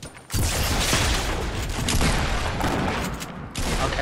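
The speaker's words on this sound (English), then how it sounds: "They're shooting at my walls" Sustained, dense gunfire during a Fortnite Battle Royale match, a loud continuous barrage of shots hitting built walls that runs almost the whole time with no talking.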